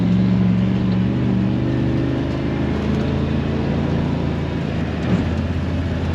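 A vehicle drives steadily through a grown pea field, its engine producing a continuous loud drone, with a rushing swish from the crop and a slight change in tone toward the end.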